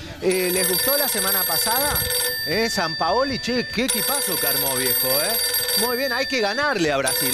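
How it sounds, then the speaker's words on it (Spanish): A telephone rings with a steady, high electronic ring tone that runs throughout. Animated talk about football carries on over it and dominates the foreground. "Ese es mi teléfono."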